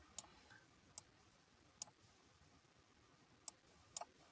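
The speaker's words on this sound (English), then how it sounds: "I'm going to right mouse click again" Five faint, crisp mouse clicks spaced irregularly over a quiet room background, without any talking.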